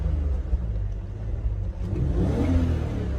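The engine of a BMW E46 is revved at wide open throttle, a continuous low rumbling roar close up that swells toward the end, with no talking.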